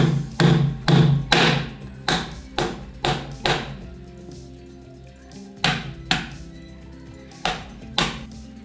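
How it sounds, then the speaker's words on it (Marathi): A series of sharp, hard knocks, sometimes in quick pairs, as wood apple shells are struck repeatedly to crack them open, with pauses between bursts. "सर्वप्रथम आपण कवट फोडून घ्यायचे"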